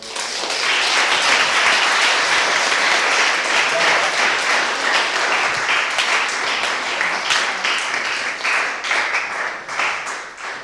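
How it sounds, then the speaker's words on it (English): An audience at a college testimony night claps steadily for a group of boys, a dense, sustained round of applause that thins slightly toward the end with some voices mixed in. "can we just give one more round of applause for these boys?"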